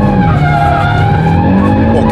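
An Audi RS3 8Y at full throttle on a race track, its tires skidding and squealing out of a corner. The engine roars loudly and steadily throughout, with no pauses.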